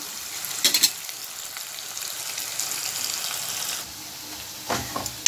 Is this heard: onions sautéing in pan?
yes